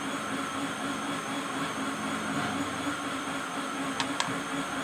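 A blender mixes ingredients, a steady loud motor whir that holds constant throughout, with a couple of faint clicks near the end.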